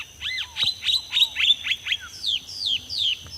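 A bird mimicking a roadside hawk (gavião carijó) gives a rapid series of about a dozen sharp, descending whistled notes, clear and fairly close over quiet background.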